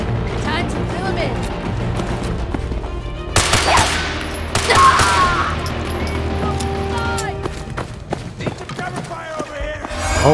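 Turret gunfire erupts in the video game Fallout: Frost, with loud rapid bursts of shots and clattering impacts over a busy game soundscape.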